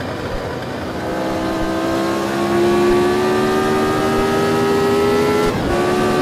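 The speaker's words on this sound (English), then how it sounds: "Quite easy to outbreak yourself in a 67 era inspired F1 car." Engine of a 1967-era inspired F1 race car in a racing video game, revving high and steady for several seconds with a rising whine, a brief dip near the end, then picking up again; loud and close, no talk.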